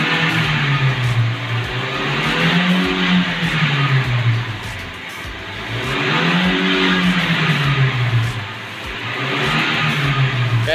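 A 2018 Toyota Grand New Avanza engine revs up and falls back in two long rising and falling sweeps during an acceleration test, steady and close, with no talk.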